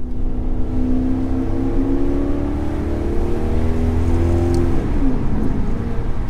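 A Maserati GranTurismo Sport engine revs loudly and steadily, its deep tone rising and shifting in pitch without a break, with no voices over it.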